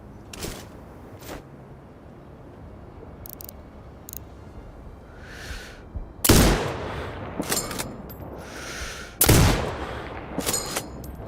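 Sniper rifle shots in the video game Sniper Ghost Warrior Contracts 2: two loud, sharp reports several seconds apart, each with a booming tail, over quiet ambient game noise and scattered small clicks.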